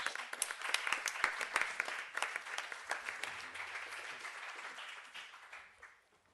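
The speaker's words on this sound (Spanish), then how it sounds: "un aplauso para los de Ergoesfera" A crowd applauds steadily, dense clapping that gradually tapers off toward the end.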